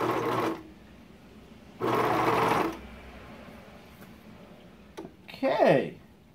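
A home sewing machine stitches heating pad fabric in two short loud bursts of rapid whirring, each under a second, separated by quiet pauses, followed by a brief click and a moment of speech near the end.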